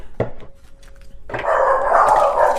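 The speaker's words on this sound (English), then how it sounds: "Please ignore my dogs in the background." Dogs bark in the background, a sharp yelp near the start followed by a burst of loud, overlapping barking and yipping from close by.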